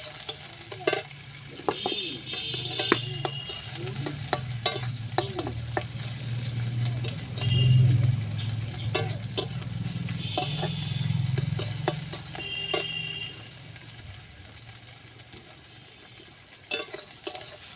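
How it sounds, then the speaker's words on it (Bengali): Split green chillies and crushed garlic frying in a pan give off a steady crackling sizzle, punctuated by frequent sharp utensil scrapes and taps against the pan, with a low rumble swelling midway; close, no speech. "এখানে রয়েছে চেরা কাঁচা লঙ্কা আর একটু থেতো করা রসুন রয়েছে, দিয়ে দিলাম। ভালো করে ভেজে নেব।"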